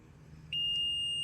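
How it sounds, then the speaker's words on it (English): A Haulotte 5533A boom lift gives a loud, steady, high-pitched warning beep as it lowers. The tone starts abruptly and holds continuously over a low mechanical rumble. "it's going to have that high-pitched beep to it, kind of like a reverse noise"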